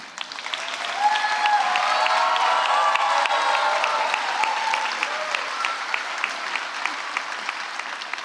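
A crowd at a high school graduation ceremony in Houston claps in a long sustained round of applause, building quickly and holding dense and even, with faint cheers mixed in.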